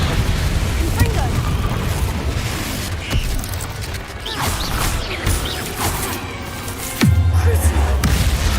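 In Hogwarts Legacy a player casts Confringo fire spells, bringing bursts of fiery explosions, rumbling booms and crashing debris amid continuous game noise, with a deep thump near the end and speech mixed in.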